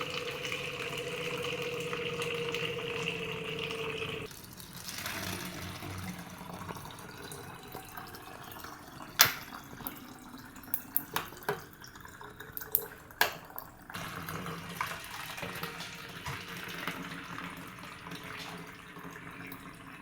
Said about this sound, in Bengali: এখন সকালের কাজের মধ্যে পড়তে হচ্ছে জল ভরা তাই জলটা ভরে নিচ্ছি